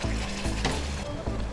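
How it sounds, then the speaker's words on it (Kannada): Masala spices frying and sizzling in an oil-filled pan while a pulao is cooked, a steady close hiss with a few sharp stirring scrapes. "ಫ್ರೈ ಆಗ್ತಾ ಇದೆ."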